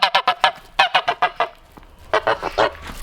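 Farmyard geese honk loudly and close by in quick bursts of repeated calls, separated by short pauses, with no talking.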